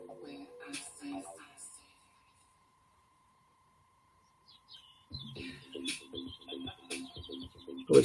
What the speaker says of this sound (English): Probably thought the bird was in here.